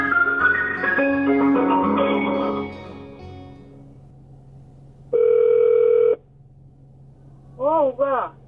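Ringback tone of a mobile phone call placed on arrival at a relative's home in Seoul, two steady electronic ring bursts, one long and one shorter double pulse, fairly loud after fading background music.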